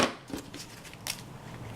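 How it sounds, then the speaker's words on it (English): Scissors cut through ribbon streamers for a homecoming garter mum in a few quiet, separate snips that sit close and faint, with no one speaking. "I'm going to start at one corner and I'm going to cut my way up"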